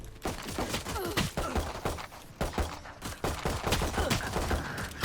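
Classic pistol fire in the shooter game Valorant, repeated sharp shots in quick irregular bursts over busy game sounds, loud and close.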